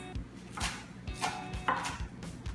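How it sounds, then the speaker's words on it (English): A knife chops kale finely on a cutting board, a quick series of crisp, close taps in an uneven rhythm with no talking. "So I'm just gonna chop it super, super tiny, so you just have these like little tiny bite-sized pieces"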